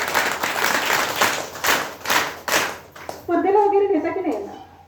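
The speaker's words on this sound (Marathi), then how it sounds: "यांच्यासाठी आणि मुलांसाठी एकदा जोरदार टाळ्या द्या" Audience applauding children after a song performance at an event, with a burst of clapping through most of the moment that gives way to a spoken voice near the end.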